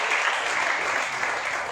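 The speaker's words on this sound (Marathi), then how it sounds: "त्यांच्यासाठी एकदम जोरदार टाळ्या" Loud, dense applause for top-scoring SSC students at a coaching class in Barshi, Maharashtra, a steady wash of many hands clapping throughout with no pauses.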